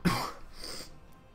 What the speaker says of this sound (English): There's the daily cough